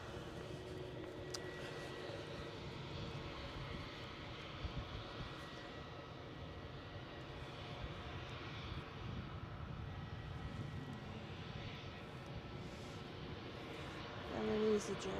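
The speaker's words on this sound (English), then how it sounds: "A Ryanair next to come in from Milan." Ryanair passenger jet inbound from Milan landing at Edinburgh airport, a steady distant engine roar with broadband rumble throughout, under faint background voices.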